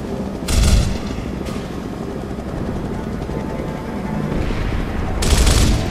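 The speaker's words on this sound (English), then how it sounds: "Hearing a gunfire and him shooting out of the side of the helicopter" Gunfire rattles from the side of a helicopter in the video game Gears of War, bursts of shots over a constant rotor drone, loud and close.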